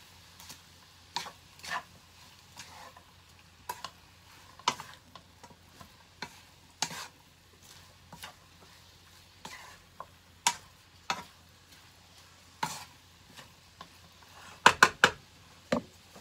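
Palabok vegetables and black pepper are stirred in a pan, with scattered light scraping and tapping strokes of the utensil against the pan over a faint sizzle, close and sparse, with a quick cluster near the end.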